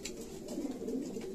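Pigeons cooing steadily close by at a loft, a low throaty murmur that continues throughout the short stretch with no talking.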